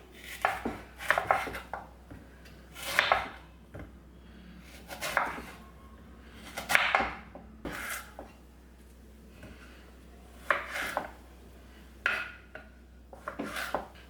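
Raw green plantain, left unpeeled, sliced with a knife into thick pieces for a Palakkad-style pulikuthi: a series of close, crisp cutting thunks on a board, coming in irregular bursts with short pauses, and no voices.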